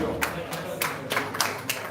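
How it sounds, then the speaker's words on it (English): A handful of scattered handclaps ring out at a football Cheetah Cup 2025 launch and live draw in Ghana, a sparse, fairly quiet smattering with room murmur underneath. "A round of applause for him."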